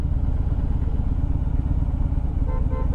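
A 2014 Harley-Davidson Breakout motorcycle riding along, its engine a steady, loud, deep rumble that fills the whole stretch with constant low throb, close to the rider and with no voices.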